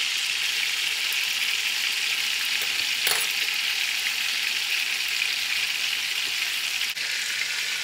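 Meatballs for teriyaki sear in a hot pan with a steady, close, loud sizzle that runs throughout, with a brief clatter near the middle and no talking.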